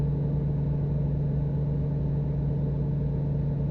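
A truck engine in American Truck Simulator holds a steady low drone at speed on the road, with an even hum and no pauses.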